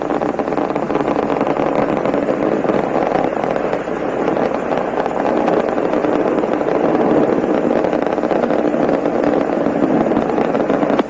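Space Shuttle Discovery's three main engines during launch, throttled down to 65%: a continuous, heavy rocket-engine roar, steady and loud throughout with no pauses.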